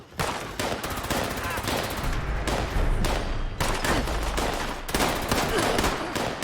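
Rapid automatic gunfire and repeated shots from a firefight against hostile enemies in Fallout 76, loud and continuous with dense bursts and occasional brief pauses, no talking over it.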